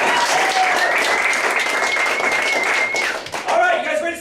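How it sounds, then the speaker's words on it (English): An audience at the Hideout Theater in Austin claps in sustained, dense applause at an improv showcase, loud and close, with whoops and a voice carrying over it. "give yourselves a round of applause"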